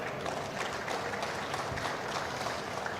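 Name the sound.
audience applause for the Minister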